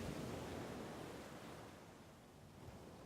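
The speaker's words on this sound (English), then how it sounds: "listening to the sound of the waves rocking you to sleep" Ocean waves rolling in, a soft, continuous wash of surf that swells and slowly recedes, heard from a distance and fairly faint.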